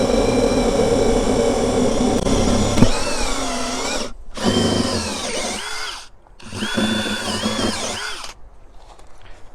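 A loud power drill boring a hole in soil whines steadily at close range, its pitch wavering as it bites, stopping briefly twice before fading out.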